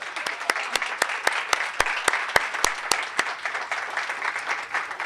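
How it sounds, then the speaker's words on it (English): Audience applause at a library celebration, steady dense clapping that holds throughout, with a few sharper individual claps standing out near the front. "So would you give them a big round of applause?"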